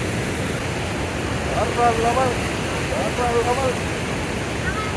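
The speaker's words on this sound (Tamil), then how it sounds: "ஆர்ப்பரித்து போய்கிறது தண்ணீர்" Water released through sixteen dam gates at Mettur Dam, about one lakh cubic feet, roars in a constant, heavy rush, with a voice briefly rising over the noise a couple of times.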